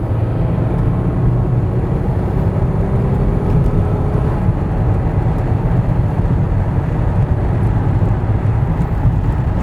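Constant loud road and engine drone from inside a 1998 Ford Contour cruising at 55 mph, a steady rumbling hum with no pauses.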